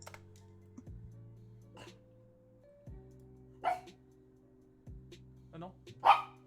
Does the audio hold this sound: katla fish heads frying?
no